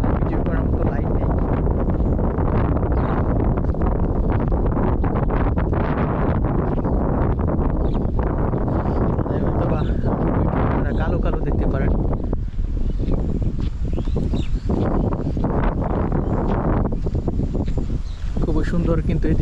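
Strong wind gusts roar across an open village under dark clouds before rain, a loud continuous buffeting rush with rustling, while someone talks over it.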